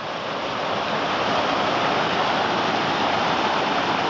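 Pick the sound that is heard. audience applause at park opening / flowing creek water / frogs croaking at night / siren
flowing creek water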